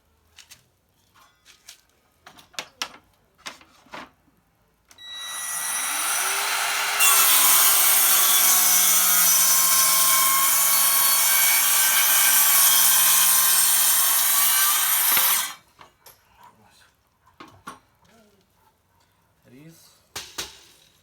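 A Metabo KS18LTX57 cordless circular saw rips lengthwise through wood, running for about ten seconds as a loud, steady, close whine, with quieter handling noises before and after.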